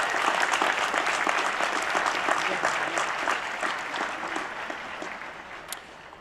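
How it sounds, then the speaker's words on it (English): A commencement ceremony audience gives sustained applause for the event staff, a steady wash of many hands clapping that fades slightly toward the end, with no talk over it. "Please join me in applauding these great people."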